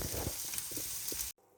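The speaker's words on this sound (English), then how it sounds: "I'm just frying these up gently and then I'll pop them in a salad to go with my lasagna" Leftover courgette pieces sizzle gently in a frying pan, a constant crackling fry with small spits and pops, close and steady, before cutting to near silence at the end.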